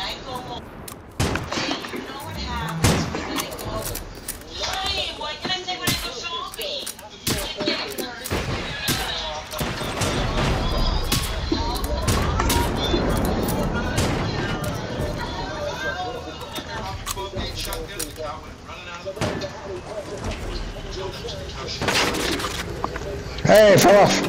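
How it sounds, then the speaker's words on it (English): A giant robot in Generation Zero fires its rocket launcher, and heavy booming blasts and explosions go off repeatedly at close range among gunfire and people talking. "shoot that rocket launcher"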